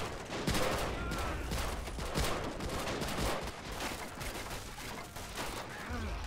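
Dense machine gun fire in a Pacific beach assault battle, Rising Sun mod, with American troops against Japanese defenders; a continuous rattle of bursts with distant shots and battle noise layered throughout.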